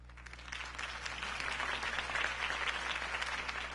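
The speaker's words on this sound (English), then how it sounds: "If only Mr. Wayne, my campaign's largest backer, could have heard that applause" Crowd applause in a Batman video game scene rises as a dense, steady wash of clapping lasting several seconds over a low constant hum.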